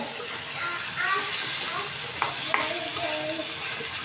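Mashed taro greens, seasoned with salt, sizzle in a hot pan while being stirred, giving a continuous frying hiss with a couple of sharp scrapes of the utensil against the pan.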